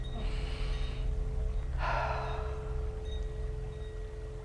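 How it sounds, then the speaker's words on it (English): A slow deep breath drawn in close to the microphone, two soft breathy rushes over a steady low hum. "take a deep breath and let everything go"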